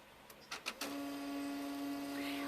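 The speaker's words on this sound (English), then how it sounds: "it sucks the page back into the printer to do double-sided printing" An HP Color LaserJet Pro M254dw laser printer running a double-sided job: a few quick clicks and clacks, then a steady mechanical whir with a sustained hum as the page feeds through, close and moderately quiet.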